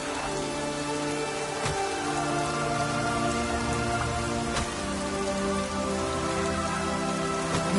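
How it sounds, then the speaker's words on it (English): Steady rain falling on a surface, a dense continuous patter throughout with no voices, with a couple of brief sharper knocks standing out from the wash. "Maybe we needed a spot of rain."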